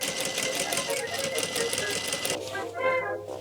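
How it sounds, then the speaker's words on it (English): A sewing machine stitching odd-shaped witch costume pieces runs in a rapid, steady mechanical rattle close by, then slows and stops near the end as a faint voice comes in. "Now I am gonna sew them all together."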